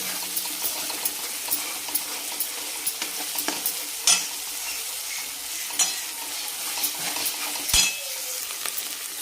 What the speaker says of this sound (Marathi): छान एकदम तेल आपलं सेपरेट होईपर्यंत आपल्याला याला चांगलं परतून घ्यायचं आहे.